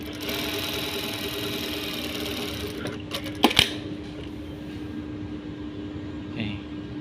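A Brother 7250a sewing machine runs a stitching pass with a steady mechanical whir throughout, plus a couple of sharp clicks near the middle.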